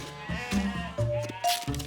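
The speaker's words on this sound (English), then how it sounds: "Now George could number the sheep as he counted them." Cartoon sheep bleat several times in quick succession, short wavering cries close by with a little background noise between them.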